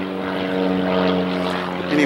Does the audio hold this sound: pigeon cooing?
no